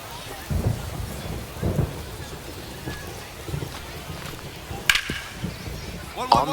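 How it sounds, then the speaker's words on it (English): Rain falls steadily through a baseball video game, with a sharp crack of thunder near the middle and several softer low rumbles spread through the clip, all at a moderate level. "the rain's still a factor here"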